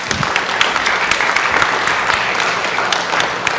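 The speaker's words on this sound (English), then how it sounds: "Let's give them another round of applause." Loud, dense applause from an audience at a city council meeting, a continuous close wash of many hands clapping with no gaps.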